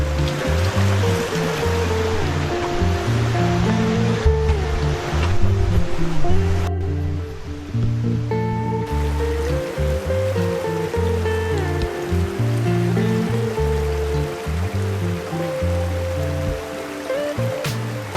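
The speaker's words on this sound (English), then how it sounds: "I'm getting ready to cross Denny Creek, and this is cool little bridge here." Denny Creek on the trail toward Mt Yale, water rushing beneath a small footbridge as a steady close-up roar, with continuous splashing throughout.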